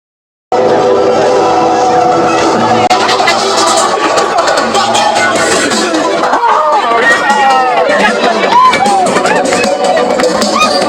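Dense crowd hubbub at the Boulogne-sur-Mer Christmas market in France, continuous loud overlapping chatter and voices close by, with footsteps and brief calls rising from the babble.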